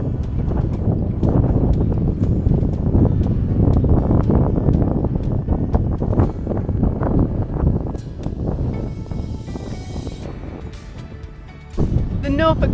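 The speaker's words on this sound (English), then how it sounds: "The wind has picked up, but this is near perfection." Strong wind gusting across the open Norfolk coast, a steady loud roar and buffeting rumble over the microphone throughout, with a few sharper thuds and knocks mixed in.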